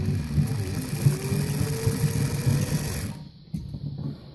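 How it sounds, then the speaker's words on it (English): A small AC motor running on DC from a rectifier whirs steadily with a buzzing, rattly hum for about three seconds, then cuts out and sputters briefly. "I'm plugged right into my DC receptacle, and you'll see I can get a little rotation out of this motor."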